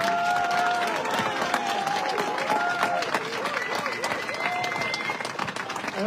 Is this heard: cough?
no